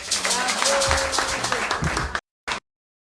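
A crowd at a political party rally in Bouaké, Côte d'Ivoire, claps steadily and loudly for a couple of seconds, then stops abruptly, with a brief burst of clapping after a short silence.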